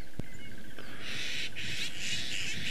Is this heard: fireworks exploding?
no